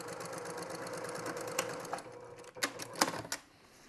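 A sewing machine stitches a straight quarter-inch seam across quilt fabric, its needle chattering rapidly and steadily at close range, ending in a few louder clicks and thumps.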